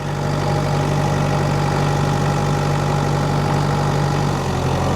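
A tractor engine idles steadily while a log is being handled on sloped ground, with a continuous low drone and a strong hum running unbroken from start to finish and no talk.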